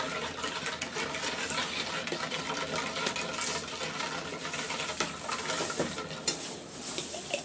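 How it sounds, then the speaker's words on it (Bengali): A spoon stirring sugar and cornflour together in a bowl for a watermelon dessert, a continuous close scraping swirl with small clinks against the bowl and one sharper tap near the end. "আমি ভালো করে মিক্স করে নিচ্ছি"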